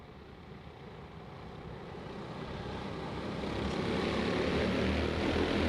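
Racing karts launching at the start of a T4 Seniors national karting championship race, a swelling buzz of many small engines that rises steadily from distant to loud as the pack approaches.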